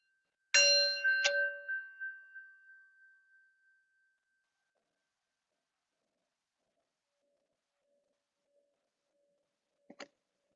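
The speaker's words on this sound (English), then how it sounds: "let's take in the sound of the bell" A single bright bell or singing bowl struck during a gentle Kripalu yoga session, ringing clearly and decaying slowly over a few seconds into silence, followed by a faint second tap near the end.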